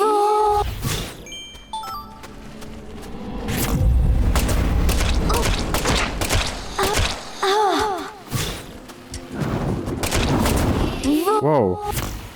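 Gunfire in the Deadly Premonition 2 video game, several loud booming shots spread irregularly among game music and effects, close and punchy.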